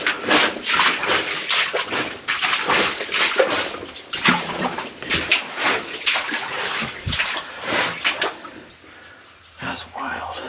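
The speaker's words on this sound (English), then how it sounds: "I hear some falling water up ahead" Falling water inside an old mine gives a steady wash and splash in the background while someone talks over it for most of the stretch.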